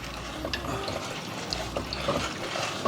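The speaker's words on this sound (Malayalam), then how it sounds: "ഇനി ഇതിലേക്ക് എത്ര ലൂസാക്കണോ അതനുസരിച്ച് പാലൊഴിച്ച് കൊടുക്കുക" Milk poured into a pot of payasam during cooking, a steady liquid trickle and splash running for a few seconds with no talk.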